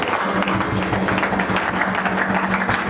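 A church congregation applauds for God's servant at a revival service, dense continuous clapping filling the room at close range throughout, with voices faintly mixed in.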